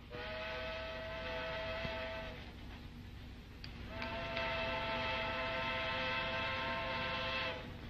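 A steam train whistle in a 1948 film sounds twice as a long, bright, chord-like blast, fading briefly in between and then returning at full strength, heard alone and fairly loud.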